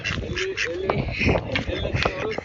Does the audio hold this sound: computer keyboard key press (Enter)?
no